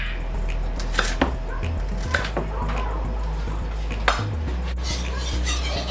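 Chicken being chopped into chunks on a cutting board for chicken à la king, with several sharp knife strikes spaced apart over a steady low kitchen hum and light clatter of utensils.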